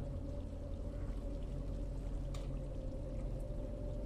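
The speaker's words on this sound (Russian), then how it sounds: "Ванная вода потекла." Water running steadily in a bathroom in the horror game Umfend, a continuous pouring, rushing flow that holds an even level throughout without pause.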